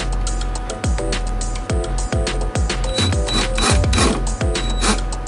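A power screwdriver drives a 5/16 self-tapping screw into the metal driver's door of a Chevy Blazer during a latch repair, giving a steady whirring, clicking motor sound with repeated short chirps throughout.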